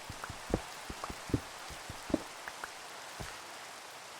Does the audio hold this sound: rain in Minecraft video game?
yes